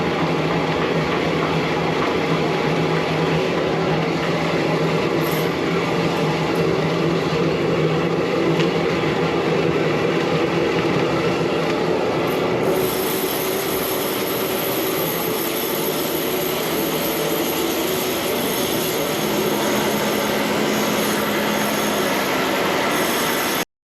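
A high-pressure water jetter roars steadily while cleaning a drain pipe taking a hand wash sink's waste, a loud continuous broadband rush of water and machinery with no talk.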